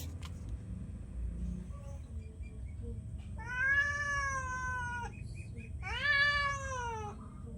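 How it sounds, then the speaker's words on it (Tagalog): A cat meows twice, a long drawn-out cry followed by a second one after a short gap, fairly close over a low steady background rumble. "Nandiyan na naman si Meow Meow guys"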